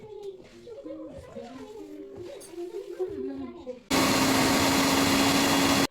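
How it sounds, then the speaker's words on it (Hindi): Talking gives way to a loud, steady mechanical whine of a mixer grinder starting up abruptly, churning cream into butter and running continuously near the end. "थोड़ा सा चला दूँगी मैं, उससे क्या जब एकदम से मिक्सी ऑन करेंगे"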